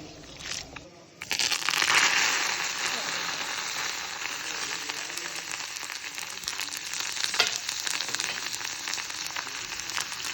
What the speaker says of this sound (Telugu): కొరియాండర్ పికిల్ తాలింపు వేయడం కోసం కొరియాండర్ పికిల్ తాలింపు. ఇందులో ఆయిల్ వేసి శనగపప్పు, మెంతులు, ఆవాలు,